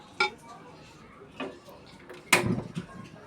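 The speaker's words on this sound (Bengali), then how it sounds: "ফ্রাই প্যানে মাংসগুলো ঢেলে নিয়েছে" Goat mutton for a Bengali Eid bhuna is tipped into a metal frying pan: a few scattered clinks of utensils, then a louder clattering rush as the meat lands, close and fairly clear.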